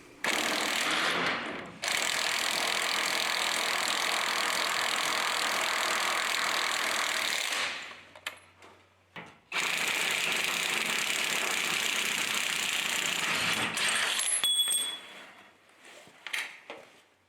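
An impact wrench or ratchet undoing bolts on an old trailer axle during an RV car transporter conversion, loud sustained rattling bursts broken by short pauses and clinks, close by, no speech.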